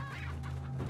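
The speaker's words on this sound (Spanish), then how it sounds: "Esas gallinas son bastante molestas." Chickens cluck in the video game Resident Evil 4, a short burst of clucking over a low, steady background hum.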